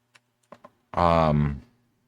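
A few quick, sharp keystrokes on a computer keyboard, close and sparse, followed by a short burst of voiced sound.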